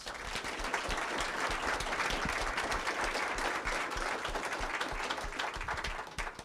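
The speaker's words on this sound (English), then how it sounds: "why don't we give them a big round of applause." Audience applause for a marketing conference panel, a dense, steady wash of many hands clapping at full strength for the whole stretch, with no talk over it.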